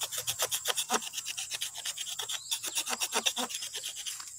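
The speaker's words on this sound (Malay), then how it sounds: "Terus kikis dia punya kayu ni." Steady rhythmic scraping of bark from a pulasan tree branch, a continuous close-up rasping rub with repeated short strokes and no talk.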